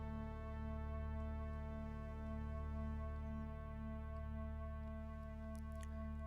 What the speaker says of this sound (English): you can hear the nice LFO action and triple sloth action in the background